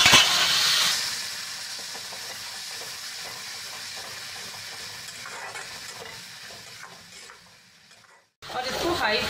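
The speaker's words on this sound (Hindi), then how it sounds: "अब हम इसमें अदरक लहसुन का पेस्ट डालेंगे," Ginger garlic paste hits hot oil with cumin, turmeric and red chili powder, opening in a bright sharp sizzle that settles into a steady softer frying hiss with stirring scrapes, briefly falling silent near the end before sizzling again.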